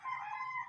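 Brief, faint crow-like call from a brood stag chicken, a single sustained nasal tone lasting under a second.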